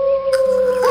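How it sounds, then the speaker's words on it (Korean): A wolf's howl rings out as one long, steady, sustained tone that holds for the whole second, close and fairly loud with no talking over it. "왜 늑대 소리 이거?"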